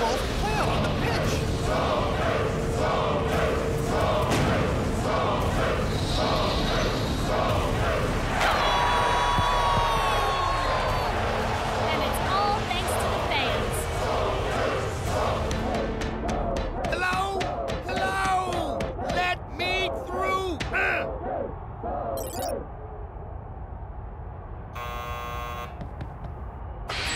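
Cartoon home crowd at a football match roars continuously through the whole stretch, dense and loud, with buzzing tones and bright stabs mixed in and faint voices over it.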